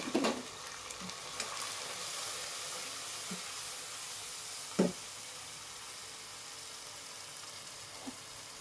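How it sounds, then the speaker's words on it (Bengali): A rohu fish head fries in spiced oil with coriander, turmeric and chili powder, giving a steady close sizzle and hiss broken by a few knocks of stirring, with no voices. "এই যে মাথাটা দিয়ে দিলাম, মাথাটা এখন আমি ভালো করে কষিয়ে নেব।"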